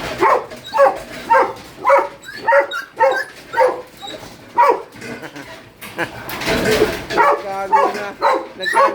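Several pet dogs, including a German Shepherd and a Great Dane, bark in a loud, rapid back-and-forth, with excited yelps and whines building into a noisy scuffle near the end.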